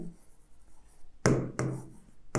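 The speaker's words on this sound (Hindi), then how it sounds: "यहां लिखते हैं क्योंकि यहां पे जो आएगा वो लिखेंगे" Chalk or marker strokes on a board during a mathematics lecture, a few sharp scratchy strokes close by after a quiet moment, with no speech.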